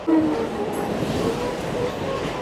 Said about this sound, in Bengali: আর এখন প্রায় এরকম গতিতে ট্রেনটা যাচ্ছে